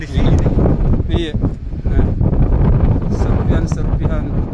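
Strong wind buffets the microphone at an outdoor search site for an ATR aircraft crash, a loud continuous roar with gusty rumble throughout, while people talk over it.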